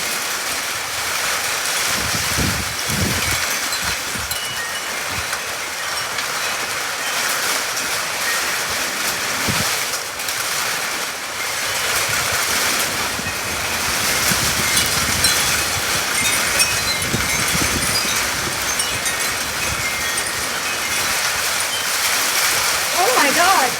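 Heavy rain pours steadily and loudly during a Phoenix, Arizona dust storm with lightning, a dense unbroken roar lasting the whole stretch, with excited voices and exclamations heard now and then.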